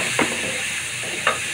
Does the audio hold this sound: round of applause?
no